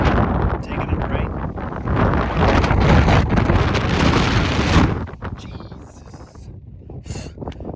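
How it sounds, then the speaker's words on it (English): Strong gusty wind buffets the microphone on an exposed stretch of the Skye Trail on the Isle of Skye, a loud broadband roar for about five seconds that then drops to a lighter, fluttering blow. "Freaking winds are just bad."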